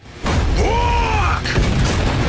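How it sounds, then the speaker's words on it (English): Explosion sound effect from the Fire Force anime: a sudden loud boom that holds as a dense roaring rumble, with a rising and falling whooshing tone sweeping through it. "and create massive explosions"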